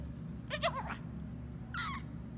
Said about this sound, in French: ce petit cri trop mignon de bébé chèvre